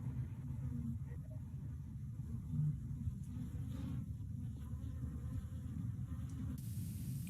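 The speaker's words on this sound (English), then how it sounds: "I noticed that our bees were flying around. They were zipping in and out of the hive all afternoon." Honeybees zipping in and out of a backyard beehive on a mild afternoon, a steady low buzzing drone of many insects close by, with no talking.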